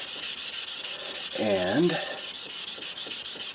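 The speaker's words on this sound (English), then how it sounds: "when you start sanding, you're going to go through some sandpaper with this spot putty" Sanding spot putty on a model tank with 400 grit sandpaper, a close, regular back-and-forth rasping in quick strokes with a brief tonal sound in the middle, nearly alone with one short spoken word.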